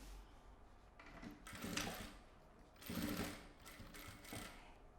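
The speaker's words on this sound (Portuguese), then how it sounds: "Eu vou vir com a costura reta aqui" A sewing machine runs a straight stitch on a double-compartment pouch, heard in two or three short, quiet bursts of rapid mechanical whirring separated by pauses.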